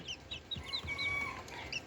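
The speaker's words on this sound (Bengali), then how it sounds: "দেখুন এটা হচ্ছে সিল্কি মুরগির বাচ্চা।" Several Silkie chicks peep continuously with high, thin chirps close by, over a low background hum.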